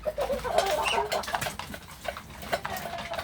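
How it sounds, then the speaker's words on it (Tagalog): Ducks quacking nearby in a chattering flock, with intermittent calls over a quiet outdoor background. "Ayan po yung mga manok. Ay, mga pato po."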